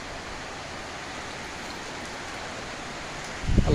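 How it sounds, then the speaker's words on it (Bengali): Heavy rain pours down in a dense, steady roar of hissing noise that stays level throughout, ending with a brief louder rumble near the close. "প্রচণ্ড বৃষ্টি আর বৃষ্টি"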